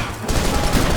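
A burst of rapid gunfire in the video game Max Payne 3 comes as a loud, dense, continuous crackle that swells after a brief quieter start and fills the whole moment.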